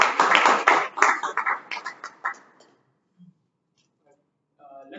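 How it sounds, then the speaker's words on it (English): Applause at a Toastmasters club meeting bursts out loud and close, then quickly thins into a few scattered claps and fades to near silence, with faint sounds returning at the end. "Can we have a huge round of applause for Toastmaster Aruna"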